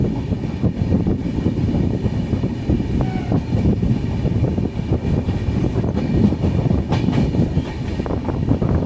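A Konkan Railway train runs along the line with a continuous low rumble and rattle of wagons, steady and loud as if heard from inside the train, with no talking.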